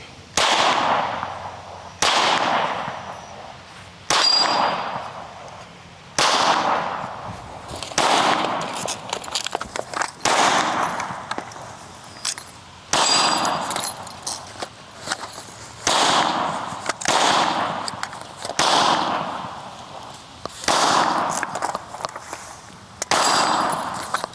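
Glock 19 Gen 5 pistol fired at an outdoor range, a steady series of sharp, loud shots spaced roughly every one to two seconds, each cracking out and decaying quickly into open air.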